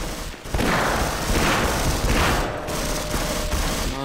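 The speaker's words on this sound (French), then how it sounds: "Ils m'ont jeté une grenade." Heavy gunfire and a grenade blast in the PC game Half-Life, a dense continuous fusillade of rapid shots with booming hits, loud and close throughout, no talk.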